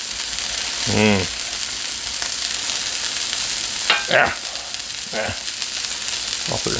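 Red peppers fry on a flat-top griddle for a cheesesteak, a constant loud sizzle with a few brief scraping spatula strokes and clatters cutting through, and no talking.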